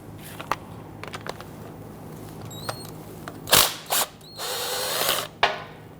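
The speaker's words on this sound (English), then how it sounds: "We need to go ahead and remove our banjo bolt." Ratchet wrench loosening the rear brake caliper banjo bolt on a 2011-2015 Kia Sorento, a few sharp clicking bursts and short ratcheting runs close by, no talk.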